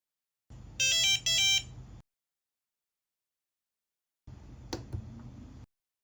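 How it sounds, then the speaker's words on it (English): An electronic buzzer on an EDU PICO coding board beeps in two short bursts at the start, followed by silence and then a softer stretch of faint noise with a brief chirp. "the buzzer will beep 3 times"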